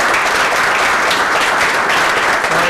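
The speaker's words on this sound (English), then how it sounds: "And I think they deserve just a round of applause." Loud, sustained applause from an audience at a sideshow gathering roast, a thick continuous wash of clapping hands that stays close and even from start to finish.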